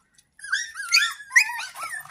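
Newborn puppies whose mother has died whimper and yip in a rapid string of high, wavering cries, close and fairly loud, with a brief silence before they start.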